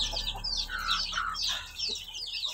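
Chickens cluck and chatter close by in a busy, continuous flurry of short calls, with no talking.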